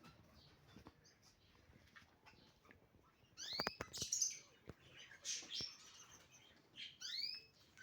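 Pet anjirella finches chirping indoors, with quiet room noise at first and then a burst of bright rising tweets and short calls repeating over the last few seconds.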